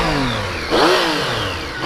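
A 2014 Triumph Street Triple ABS motorcycle engine is revved sharply to full RPM, its loud, close whine sweeping upward in pitch and then easing back down.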